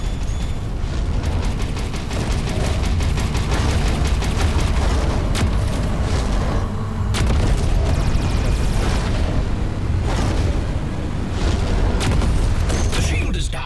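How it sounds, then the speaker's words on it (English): Missiles explode in the EverSpace 2 space-combat game, a continuous barrage of loud booms and bursts that stays dense and heavy throughout, with brief crackling impacts on top. "Attention! Missiles were deployed."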